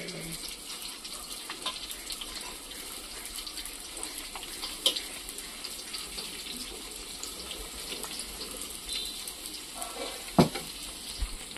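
Sliced onions fry in coconut oil in a pan, a soft continuous sizzle with occasional stirring clinks and scrapes, fairly quiet throughout.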